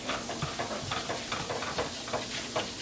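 A flour roux sizzles in a pan while being stirred constantly, giving a soft steady frying hiss broken by regular scraping strokes, close and fairly quiet.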